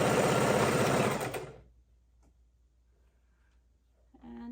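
A sewing machine stitching a row of quilt pieces together, a fast rhythmic mechanical whir close by that stops after about a second, leaving near silence before a faint noise returns.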